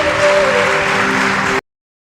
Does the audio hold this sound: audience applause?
yes